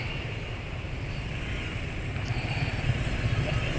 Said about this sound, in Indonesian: ini suara mesin halus